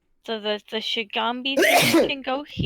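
A single loud, close sneeze bursts out in the middle of a tabletop role-playing game session, cutting across someone's speech, with talking just before and after it.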